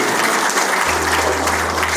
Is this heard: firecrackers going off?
no